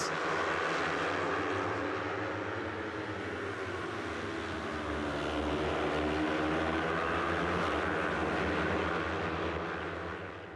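Yamaha R3 race motorcycles passing on the Estoril circuit, a continuous loud engine roar that swells and holds without break, heard at a distance with no talk over it.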